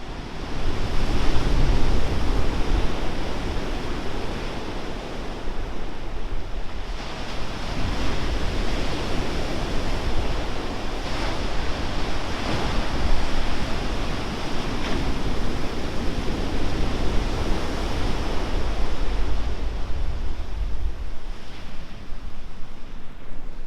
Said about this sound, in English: Gotta love the ocean.